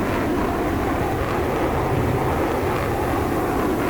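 Mirage 2000C jet engine starting up in the DCS World flight simulator, a steady loud roaring rumble with broad noisy texture, constant and alone without talk.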